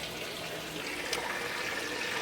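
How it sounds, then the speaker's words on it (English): Water pours from a tap into a water can, a continuous moderate rushing hiss that rises slightly in brightness as the can fills, with no voices. "go through the whole process of refilling my water can"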